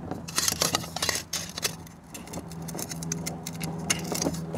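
A Robens Fire Moth stove's pan support being clipped into its base: close, crisp metallic clicks and small rattles, irregular and repeated, with no talk.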